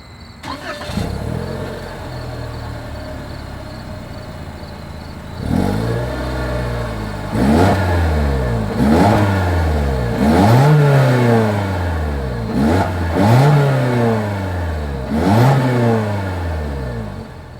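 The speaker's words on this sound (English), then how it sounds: "As always, here is that exhaust clip." Exhaust of a 2024 Toyota Corolla Hatchback, starting up then idling before a series of six or so sharp throttle revs that climb and fall back, close and loud.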